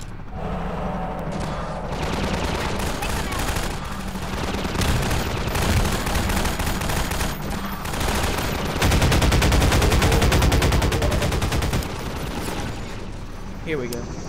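Rapid bursts of game gunfire during an airship battle in Half-Life 2, dense rattling automatic fire and booming impacts layered continuously for the whole stretch, loud and relentless with brief lulls.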